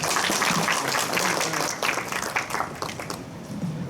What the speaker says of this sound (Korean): 강의하신 세 분한테 모두 박수 부탁드립니다